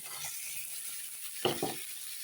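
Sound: fried eggs stirred into sizzling masala in pan

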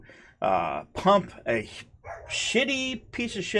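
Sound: dogs barking in background

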